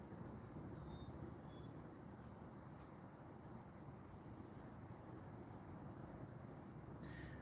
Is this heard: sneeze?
no